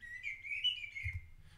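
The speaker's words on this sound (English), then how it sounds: "We've got some bird calls." A recorded bird call played back through a Max/MSP looper gives a single sustained whistling chirp, clear and fairly close, with a low rumble underneath.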